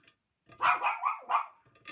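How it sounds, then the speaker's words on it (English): Several dogs bark and yip in a noisy squabble indoors, a burst of loud overlapping barks over about a second, close by and with no talk over it. "My dogs are having a little bit of a argument in there."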